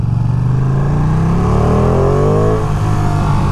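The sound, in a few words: 2023 Ducati Panigale V2 motorcycle engine revving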